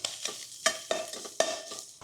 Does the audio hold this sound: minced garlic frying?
yes